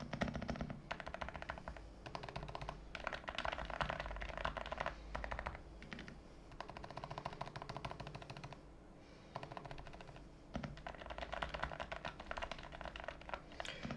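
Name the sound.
keys pressed on silent-switch mechanical keyboard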